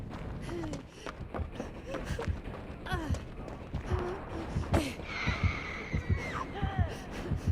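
Red heartbeat warning of an approaching killer in the mobile game Dead by Daylight, a rhythmic thumping pulse of steady beats under game sounds and a player talking throughout.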